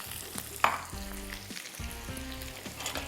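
Sliced onion frying in oil with a busy, crackling sizzle and a sharp stirring clatter early on, steady and close with no one talking.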